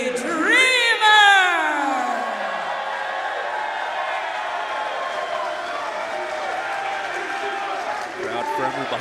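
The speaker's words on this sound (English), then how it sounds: "Crowd firmly behind Dreamer, no surprise." A wrestling crowd roars for Tommy Dreamer's entrance at an NWA title match, a loud sustained wash of cheering with rising whistles and shouts near the start, continuing steadily throughout.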